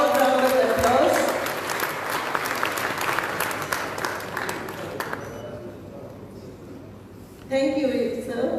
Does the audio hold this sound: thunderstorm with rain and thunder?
no